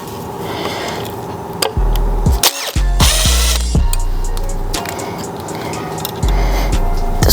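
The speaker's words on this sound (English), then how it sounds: "So now we take a drill," A handheld power drill works on the stator plate of a 2009 Suzuki GSX-R 600 motorcycle being rebuilt, with short whirring bursts, clicks and tool handling noises close to the microphone.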